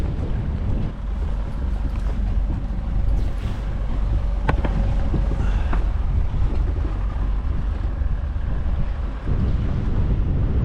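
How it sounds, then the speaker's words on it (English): Strong, gusty wind roars across the microphone outdoors beside an anchored boat, a loud continuous rumble with some faint creaks and tones from the boat underneath. "we seem to have a little bit of sunshine, still very, very breezy"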